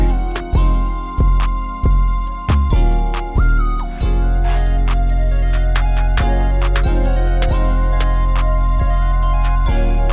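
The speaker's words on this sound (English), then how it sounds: "Next, you can add a snare." A pluggnb beat with a snare coming in over a deep, booming 808 bass and a simple melody, the crisp snare hits landing at a steady interval throughout, loud and with no voices.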